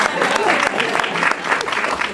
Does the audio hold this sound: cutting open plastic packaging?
no